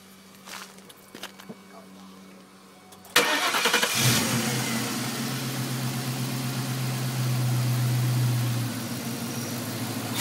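A 1998 Ford Mustang GT, after work on an idle surge, cranks and catches with a loud burst. It then settles into a steady, throbbing mid-pitched idle that rises slightly for a few seconds. Faint clatter and footsteps come before the start.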